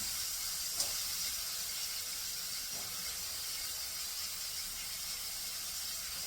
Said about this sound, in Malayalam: നമുക്കിനി കൂർക്ക വെളിച്ചെണ്ണയിലോട്ട് ഇടാം